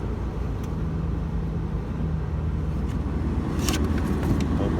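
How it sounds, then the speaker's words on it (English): A car engine at a dealer-only auction rumbles steadily up close, its low drone swelling slightly toward the end as the gas is pressed, with a brief clatter partway through. "Let me hit the gas and see."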